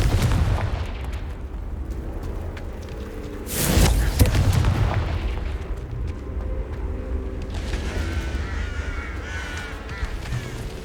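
A Confringo fire spell in Hogwarts Legacy bursts into one loud booming explosion midway, rising sharply and decaying over about a second above a continuous rumbling game background.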